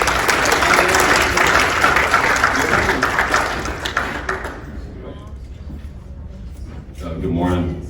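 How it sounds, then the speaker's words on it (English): A round of applause fills a morning leadership workshop session, loud and dense for about four seconds, then thins into scattered claps before a voice begins speaking near the end. "Give her a round of applause."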